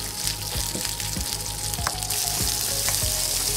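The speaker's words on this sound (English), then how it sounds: "going to saute the asparagus and the bacon" Asparagus and bacon sauté in a hot pan with a steady, loud sizzle, broken by brief stirring scrapes and a few clinks of a utensil against the pan.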